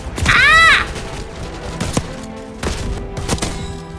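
Shotgun blasts in Black Ops 6, a few sharp, loud booming shots spaced about a second apart, with a brief whining sound effect early on and someone talking quietly underneath.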